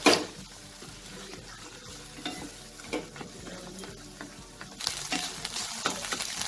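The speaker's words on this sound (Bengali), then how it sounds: "ডিমটাকে ভেজে নেব" A seasoned egg fries in a pan with a constant crackling sizzle and stirring scrapes nearby, growing louder and busier toward the end.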